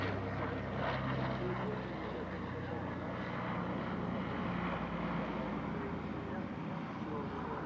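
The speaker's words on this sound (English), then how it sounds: "One of the locally based PBY-5A Catalinas is in the air on a routine early morning training flight" A PBY-5A Catalina propeller flying boat flies a morning training flight at the Air Legend airshow at Paris-Villaroche, its engines a steady, continuous droning roar at fairly close range with no pause.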